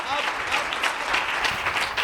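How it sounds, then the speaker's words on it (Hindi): Audience applause at a religious gathering against witchcraft, dense and continuous for two seconds with a crowd murmur mixed in. "तालियां बजा देना"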